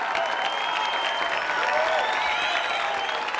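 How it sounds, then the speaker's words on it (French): An audience applauds at an evening tribute gathering honouring big names of film, television and radio, a steady dense wash of many hands clapping at an even loudness throughout, with faint murmuring voices underneath. "je vous demanderai de les applaudir."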